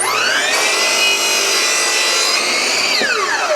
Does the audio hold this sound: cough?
no